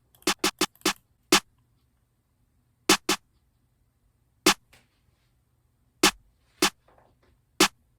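Punchy snare one-shots from the Drum Demon 2 kit in a hard trap beat, struck alone in an uneven pattern: a quick cluster of four hits, then sparse single hits spaced across the bar.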